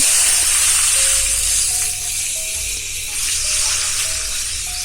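Tomatoes hit hot oil in a pan where young hilsa (jatka) fish curry is cooking, giving a loud, steady, close sizzle that holds throughout with no talking.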